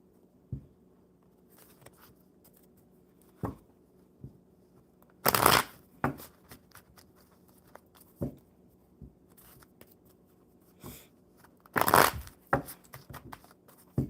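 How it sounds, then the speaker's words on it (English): Tarot cards are shuffled in quiet, intermittent bursts of riffling and soft flicks, with two louder full riffles standing out against a near-silent background. "All right, one more good shuffle."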